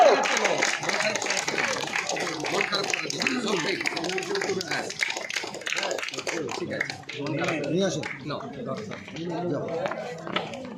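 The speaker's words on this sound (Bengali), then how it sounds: "চলো হাততালি জোরে" Applause from a school crowd at an inter-school football final prize ceremony, a steady wash of clapping with murmuring voices throughout, fading slightly toward the end.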